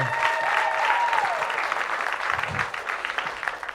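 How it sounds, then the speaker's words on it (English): Dense applause from the audience at a comedy school graduation show fills the room, with a few whistles riding over it early on before the clapping gradually thins out. "That was the largest applause for Nickelback that I've ever heard"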